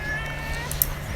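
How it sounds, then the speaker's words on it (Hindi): A domestic cat gives a short, faint meow over a low background hum. "cat, cat, cat, cat, मतलब बिल्ली,"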